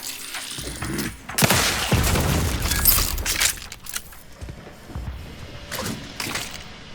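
In the video game Outer Worlds 2, an airlock explosion bursts into a loud, crackling roar of shattering debris that lasts a couple of seconds, followed by scattered smaller bangs and clatter.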